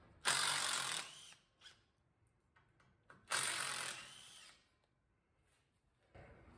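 A power tool drives out the self-tapping 8 mm screws holding the dust shield on a 2022 Ford Expedition, giving two short, sharp whirring bursts with faint clicks between them.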